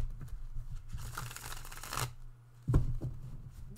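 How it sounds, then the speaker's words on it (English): Playing cards are riffled and shuffled up close in a fast papery burst, followed by a pause and a few sharp taps as the deck is squared. "Give it one more good shuffle."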